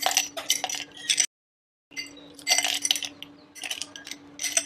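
Ice cubes clink one after another into a glass for a kiwi fruit gin cocktail, sharp close rattles in bursts with a short silent gap between them.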